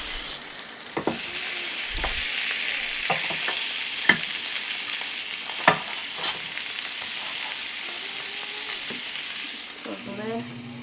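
A T-bone steak sizzles steadily on a Ninja Foodi Grill XL just after being flipped, a constant close frying hiss broken by occasional small pops and clicks, with no talking.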